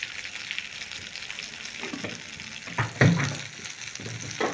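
Spices with ground coriander and a pinch of sugar fry in a pan for matar kachori and paneer, a continuous close sizzle broken by a few louder stirring scrapes.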